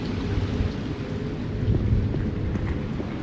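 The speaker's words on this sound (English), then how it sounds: "When will the storm end?" Thunderstorm in the video game Black Mirror: a steady, dense wash of rain with low, rolling thunder rumbling underneath, holding at an even loudness throughout with no voices.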